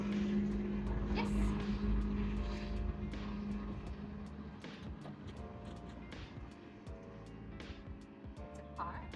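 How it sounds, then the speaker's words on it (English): A car passes outdoors with a low rumble that is strongest in the first couple of seconds and then fades, while a person talks throughout and a few light clicks sound. "It's a car."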